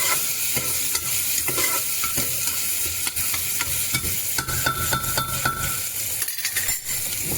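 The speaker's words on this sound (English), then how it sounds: "And we'll stir this onion for a few seconds till it becomes light pinkish color." Chopped onion with cinnamon and cloves powder fries loudly in a pan, a dense continuous sizzle punctuated by repeated scraping stirs and light clinks of a utensil against the pan.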